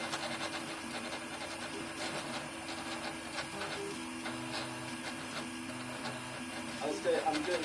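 A 3D printer running at high acceleration, stepper motors whirring and rasping in continuous shifting tones with rapid movements, fairly close, with people talking faintly in the background.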